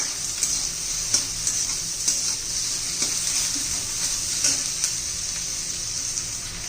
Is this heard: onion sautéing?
yes